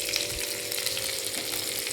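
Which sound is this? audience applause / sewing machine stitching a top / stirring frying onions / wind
stirring frying onions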